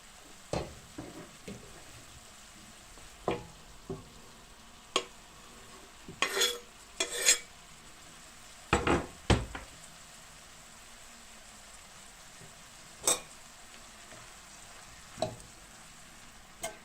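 Onion and carrot cook softly in a pan under a low, quiet sizzle, broken by scattered spatula scrapes and clinks against the pan, close and without voices.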